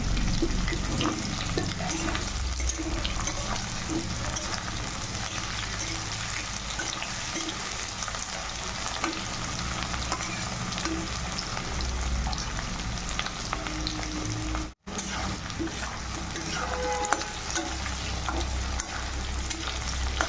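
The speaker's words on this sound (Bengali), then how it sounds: "আলুটা ভালো করে ভেজে নেবো লাল করে" Steady crackling sizzle of onions and potatoes frying in hot oil, continuous and close, with occasional stirring scrapes and no voices.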